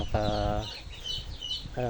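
Chickens cluck nearby in two short bursts, with some rustling and background noise between them.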